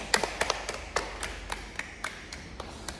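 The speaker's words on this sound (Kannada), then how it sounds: "ಹೊಡಿರಿ ಚಪ್ಪಾಳೆ" Sparse, slow hand claps from one or two people indoors, about ten crisp separate slaps spaced irregularly, fairly soft and with no talk over them.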